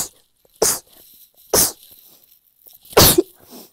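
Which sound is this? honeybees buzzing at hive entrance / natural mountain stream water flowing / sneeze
sneeze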